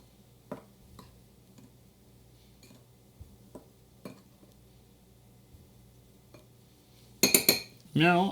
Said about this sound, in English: I want to mix that up